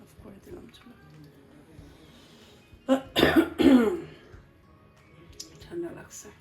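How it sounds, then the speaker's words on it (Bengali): A person with a cold coughs a few harsh, loud times in a short cluster near the middle. Quieter speech and household sounds run before and after. "ঠান্ডা লাগছে কালকের থেকে, একটু কাশি কাশি ভাব।"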